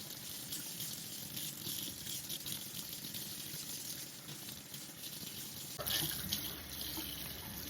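Tap water runs steadily over a rabbit hide being rinsed, a continuous close splashing rush that grows louder and brighter near the end as the flow shifts.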